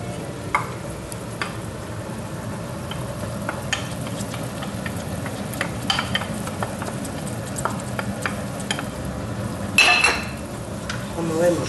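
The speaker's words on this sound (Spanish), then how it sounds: "echamos el tomate. Son como unos 200 gramos de tomate natural triturado" Crushed natural tomato, about 200 grams, stirred into softened onion and carrot frying in a pan for meatballs, giving a steady low sizzle with scraping spoon strokes and a few clinks of utensil on the pan, with one brief louder scrape near the end.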